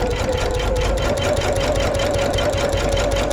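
A sewing machine stitches a fabric bag panel with a loud, steady, rapidly pulsing whir that runs without pause.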